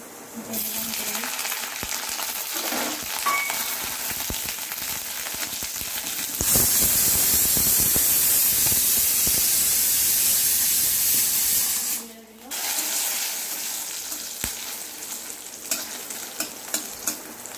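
Garlic, green chilli and ground dried red chilli stirred and frying in hot oil, a steady close sizzle that swells loud mid-way, briefly drops, then continues with scraping stirs; faint talk underneath.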